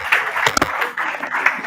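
An audience applauds panelists at an AI career fair, a short burst of clapping and hall noise, fairly loud and close.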